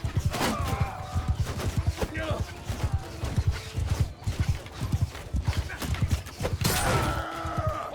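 Rapid hoof clip-clop with a couple of high whinnies rising over it in the video game Mount & Blade II: Bannerlord, a busy battle-like din and speech layered throughout.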